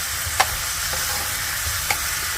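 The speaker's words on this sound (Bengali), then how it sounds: "আদার গন্ধটা যতক্ষণ না বেরোচ্ছে ততক্ষণ নাড়ানাড়ি করতে হবে, কষতে হবে" Ginger and spices stir-fried in a pan for a Bengali cabbage curry: a steady close sizzle with two sharp scrape-taps of the stirring spoon, no talk.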